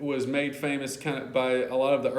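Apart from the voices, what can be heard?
None of the usual background noises is heard.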